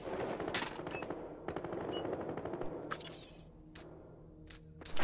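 Gunfire in the video game Battlefield Hardline: bursts of rapid automatic shots alongside sharp single cracks and a glassy shatter, loud and continuous through the passage with no talk over it.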